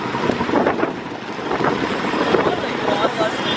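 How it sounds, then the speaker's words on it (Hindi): Very strong wind blows across the microphone outdoors in Mumbai, a loud steady roaring rush with gusty swells throughout, while voices speak faintly underneath. "बहुत ही ज़्यादा तेज़ हवा चल रही है"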